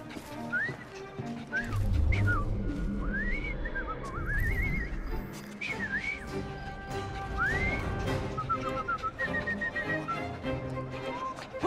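A man whistles a wavering, sliding tune in the video game Assassin's Creed Syndicate, the bursts of rising and falling notes repeating over a dense bed of street noise with horses and other background bustle.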